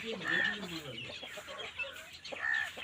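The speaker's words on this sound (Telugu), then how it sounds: "ఇక మన కోళ్ళు చాలా బాగున్నాయి కదా." Chickens cluck on a farm in short, repeated calls close by, with brief pauses between bursts and a faint outdoor background.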